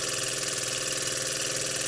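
A small model steam engine from a school-built kit runs steadily and close by, giving a continuous, even mechanical chuff and hiss with no breaks and no talking.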